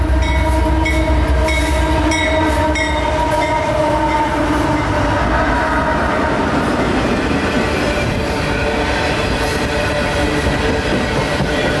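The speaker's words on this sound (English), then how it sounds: "Here's our southbound haul of daily freight from Waycross, Georgia to Tampa, Florida." A southbound daily freight train pulled by two GE locomotives and one EMD locomotive rolls past in Ocala, Florida, making a loud, continuous rumble with rhythmic wheel clatter and rail squeal, close and steady throughout.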